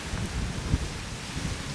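Light wind blowing outdoors on a mild day in Celebration, Florida, a soft rumbling buffet across the microphone with one brief gust, no voices.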